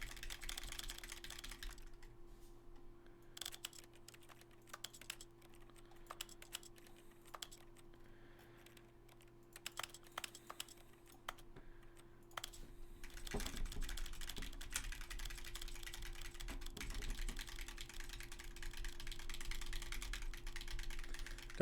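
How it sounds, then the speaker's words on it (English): Computer keyboard keys clicking in fast irregular bursts, close but quiet, over a low steady background hum with no voices. "Don't mind the rampant clicking of my keys."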